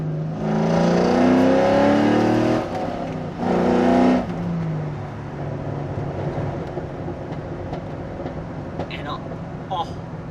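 A C5 Corvette, straight-piped through an SLP Loudmouth custom exhaust, revs hard twice up close, a long climbing blip then a shorter one, before settling into a lower burbling idle.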